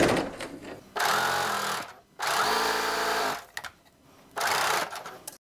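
A sewing machine stitches the hem of a T-shirt swing dress in three loud, steady bursts of rapid motor whirring, separated by short pauses.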